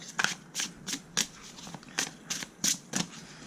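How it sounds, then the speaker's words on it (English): Oracle cards from a herb-themed oracle deck shuffled in a steady rhythm, about nine sharp papery slaps spaced roughly evenly, close up and alone. "Let's see how they shuffle."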